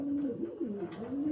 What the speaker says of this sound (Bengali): এখানে উনি পায়রা নিয়েছেন, এই 3টি পায়রা দেখেন, ইয়েলো আমেরিকান, হোয়াইট আমেরিকান